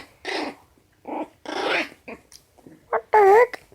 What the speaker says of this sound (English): The doggy growled and then she got all weirded out.